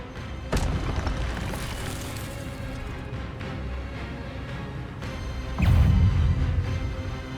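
The Expelliarmus spell cast in Hogwarts Legacy lands as deep booming blasts, one early and a louder, longer one later, over a low rumble of in-game combat.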